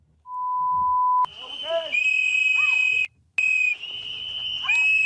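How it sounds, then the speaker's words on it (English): People in Minneapolis blow whistles to warn others that federal agents are nearby. A short tone comes first, then shrill, sustained whistle blasts overlap and carry on, broken by one brief gap, with faint voices underneath. "people are using the whistles to alert others of the presence of federal agents in the area"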